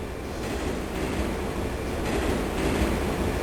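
A train rushes past in Turok 3: Shadow of Oblivion, a steady, loud rolling rumble with rattling wheels and a faint squeal, continuous and close.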